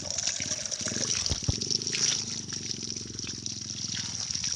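Water pours strongly at Bangon Falls, a steady broadband rush that stays loud and continuous throughout, with no voices over it.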